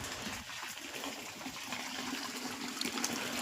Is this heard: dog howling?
no